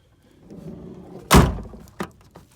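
The rear half door of a 1998–2011 Ford Ranger, with its bottom latches prone to freezing, opens and closes. A sharp loud slam is followed by a smaller latch thunk, both close by in a quiet setting.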